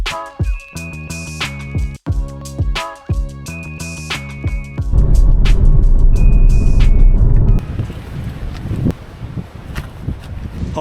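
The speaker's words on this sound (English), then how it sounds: "my God, it's windy" Strong night wind in Northumberland buffets the microphone in heavy, continuous low gusts that rise to a steady roar midway and then ease into rougher bursts, mixed with a passing hum.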